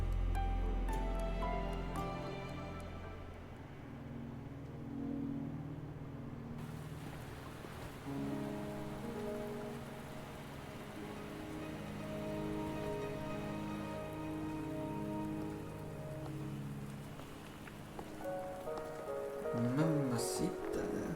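Rain falls in the video game Wuthering Waves, a soft, steady patter that continues throughout beneath tonal game music.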